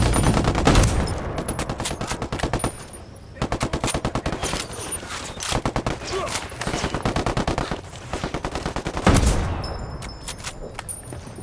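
Automatic gunfire in the open-world shooter Ghost Recon Wildlands, with a gun turret in the fight: long, loud, rapid machine-gun bursts repeating with brief pauses, close and dominant throughout.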